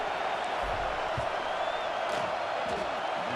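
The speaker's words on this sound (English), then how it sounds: "This crowd trying to do its part to get inside the kicker's head." A dense, steady roar from a stadium crowd fills a field goal attempt in the College Football 26 video game, with a broadcaster commentating over the constant wall of noise.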